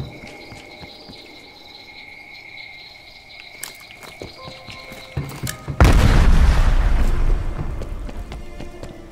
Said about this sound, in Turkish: Yeri patlattılar.